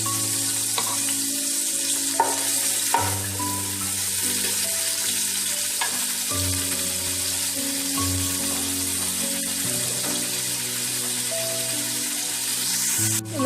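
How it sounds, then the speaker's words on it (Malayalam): Chopped onion sautéing in hot oil in a pan for Arabian-style vegetarian Bukhari rice, a steady close sizzle running throughout with occasional stirring clatters, no voices. "ഒന്ന് ബ്രൗൺ ആണ് വരെ നമുക്ക് വഴറ്റി കൊടുക്കാം"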